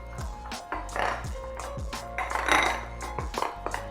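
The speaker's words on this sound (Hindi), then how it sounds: "मैं इसको अच्छी तरह मिक्स कर लेती हूँ" A spoon stirs cocoa powder, milk and cream together in a bowl for homemade ice cream, giving a steady rhythmic run of scraping strokes and light metallic clinks against the bowl, close up.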